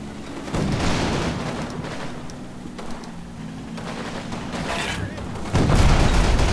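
Gunfire and booming blasts in the World War II tactical game Combat Mission Final Blitzkrieg, set on the German mainland in January 1945, come in rough bursts. A voice talks over the noise.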